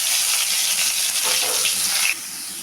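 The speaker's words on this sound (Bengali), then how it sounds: "তো এখন সবগুলো সবজি আমি একসাথে ঢেলে দেব।" Sliced carrot, capsicum and beans hit hot oil in a pan with a loud, dense hiss of sizzling that eases to a softer fry after about two seconds. No voices are heard.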